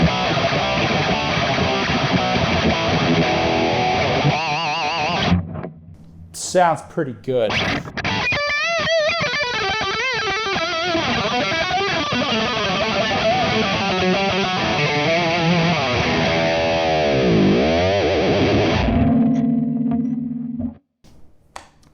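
An electric guitar with heavy distortion is strummed and picked with a 1.4 mm standard-bevel Hawk marble pick with six grip holes, giving loud, dense chords and riffs, with a voice speaking briefly.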